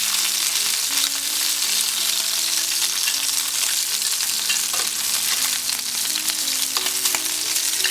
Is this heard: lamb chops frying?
yes